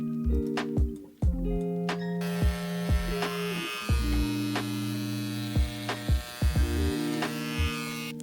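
An electric clipper buzzes loudly and continuously while trimming the pile of a tufted rug, its motor hum dipping and changing pitch as it catches the yarn, close by.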